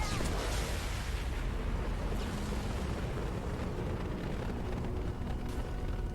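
A big explosion in Mass Effect Legendary Edition on Insanity difficulty, a loud broadband roar that fills the whole stretch and holds steady without pausing.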